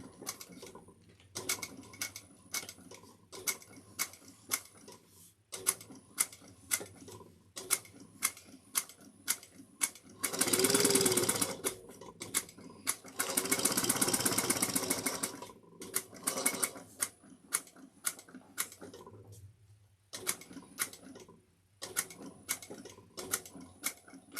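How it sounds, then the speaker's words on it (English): A sewing machine stitches a slouchy shoulder bag in rapid mechanical clatter, with two longer sustained runs amid shorter start-stop bursts and pauses, close up and with no talking. "Back stitch at the beginning and at the end."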